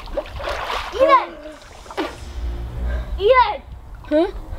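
Water in a backyard swimming pool splashes in short irregular bursts, close and lively, mixed with excited children's voices talking and calling out over the splashes.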